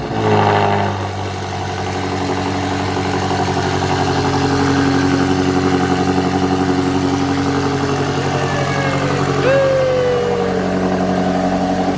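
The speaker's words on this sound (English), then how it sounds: "we're gonna go ahead and give it a quick little startup for you guys" A BMW X5M Competition SUV fitted with new downpipes starts up and settles into a loud, deep, steady idle with rumbling exhaust and a short rise in revs partway through, heard close and with no one talking.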